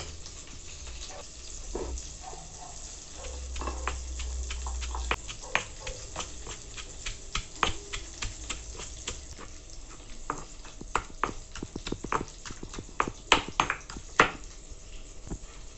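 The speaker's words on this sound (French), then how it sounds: "Je vais mettre un demi-cuillère à soupe de gros sel. Et je commence à piler." Coarse salt and ingredients for a camarons sauce pounded by hand in a mortar with a pestle, giving irregular close knocks and grinding scrapes that grow sharper and more frequent toward the end, with no talk.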